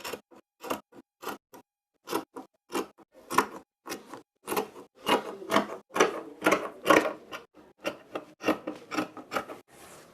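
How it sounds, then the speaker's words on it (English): Scissors snip through fabric to cut out the armhole of a jacket, making a close series of short crisp cuts in an uneven rhythm with brief pauses between them and no talk over them. "You have to cut it like this. Cut the armhole out."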